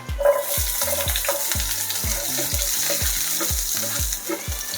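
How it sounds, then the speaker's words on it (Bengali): Dried chillies stirred and fried in oil for a Bangladeshi kala bhuna, a bright crackling sizzle over a regular series of low thuds from the stirring utensil, close and alone. "শুকনো মরিচটা নেড়ে চেড়ে ভেজে নিয়ে"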